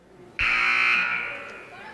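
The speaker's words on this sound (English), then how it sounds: "There's the buzzer to bring the teams back out onto the court." A basketball game buzzer sounds once in a girls' junior varsity gym, a loud sustained blare that starts abruptly and holds for over a second before slowly fading, with faint crowd background.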